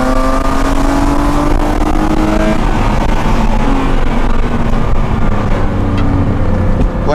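A car engine with a homemade direct intake kit pulls hard uphill, a loud, steady drone with rising engine tones held close throughout and no talking.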